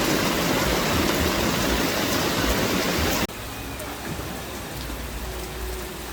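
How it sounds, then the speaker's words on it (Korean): Heavy tropical rain pours down in Phuket, a dense, loud hiss of water hammering surfaces that drops abruptly to a softer but still constant downpour partway through. "아무 생각 없이 빗소리 듣는 것도 정말 좋더라고요."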